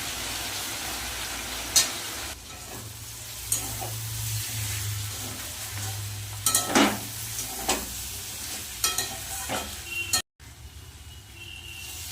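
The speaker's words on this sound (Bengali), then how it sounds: "ভালো করে মশলাটা দিয়ে কষিয়ে নেব" Spices stir-fried in a pan for a curry made with leftover dal, a steady low sizzle under repeated spatula scrapes and knocks, with a brief cut to silence near the end.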